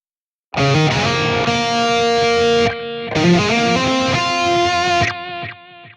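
Electric lead guitar run through a Fractal AX8 with analog stereo delay, sustained distorted notes and chords with repeating echoes trailing off behind them, loud and close, played alone.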